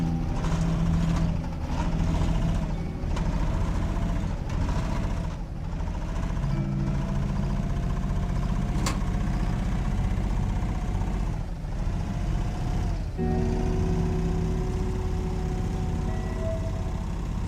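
A video game vehicle engine drones steadily and loudly throughout, its pitch rising and falling as the throttle opens and eases off, with no talking over it.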